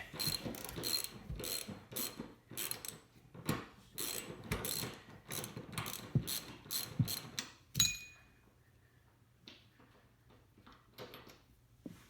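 Rapid ratchet clicks come in bursts as a socket wrench backs out the front seat bolts on a BMW E46 Convertible, loud and close. The ratcheting stops around two-thirds through, leaving a faint low hum.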